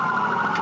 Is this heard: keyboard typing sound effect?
no